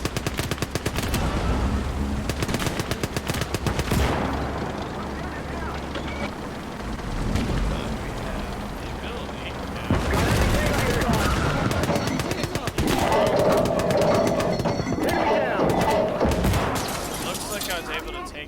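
Gates of Hell war game combat with machine-gun bursts, rifle fire and heavy artillery blasts, dense and loud throughout, while someone talks over the battle.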